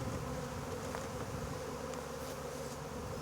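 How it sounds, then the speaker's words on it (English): A swarm of honeybees being moved to a hive during a bee rescue, producing a dense, continuous buzzing drone that fills the whole clip, close and steady, with no one speaking. "But that's the swarm of honeybees."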